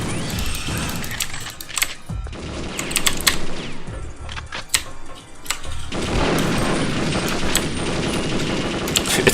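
Pistol shots ring out in Perfect Dark, played on an emulator, sharp repeated cracks in uneven bursts over busy game noise and music, some rapid clusters, others spaced apart.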